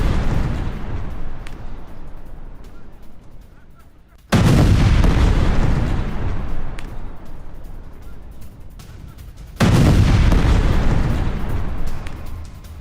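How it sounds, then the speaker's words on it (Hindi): Heavy bombardment with guided bombs on Hamas positions in central Gaza, with a continuous roaring, rumbling barrage that surges in two sudden loud blasts and then slowly fades each time. "सेंट्रल गाजा में विध्वंसक बमबारी हुई और हमास के ठिकानों पर गाइडेड बॉम्ब से वार किया गया।"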